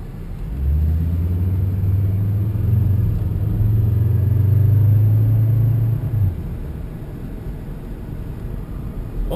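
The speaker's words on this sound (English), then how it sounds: "Old car drives nice, especially on the interstate." Steady engine drone and road rumble from a Volvo S60 2.5T cruising, a low hum that rises slightly in pitch before easing off near the end, heard up close and alone without talk.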